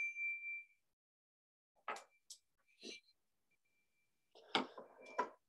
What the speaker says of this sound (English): is the more familiar bell